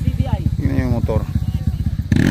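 A dirt trail motorcycle engine climbs a steep uphill, pulsing in a steady rapid beat close by, with voices talking over it.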